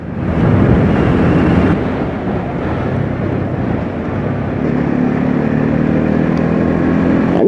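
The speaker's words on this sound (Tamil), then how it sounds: "அண்டர்பெல் எக்ஸாஸ்ட் சவுண்ட் வரங்காட்டி உங்களுக்கு பார்த்தீங்கன்னா எக்ஸாஸ்ட் சவுண்ட் ரொம்பவே நல்லா இருக்கு நண்பா, அதாவது ரொம்பவே லவுடா இருக்கு" A Bajaj NS 200 motorcycle with an underbelly exhaust runs loud and close, a dense rumbling exhaust roar that swells at the start and stays strong throughout.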